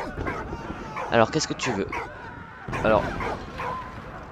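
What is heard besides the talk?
dog barking in video game Valiant Hearts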